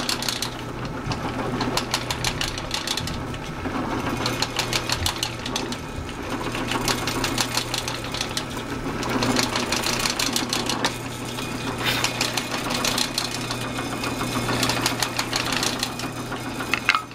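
Drill boring number 7 holes half an inch deep into a precision router base, a continuous rapid chattering machine whir with steady vibration, running throughout with no speech.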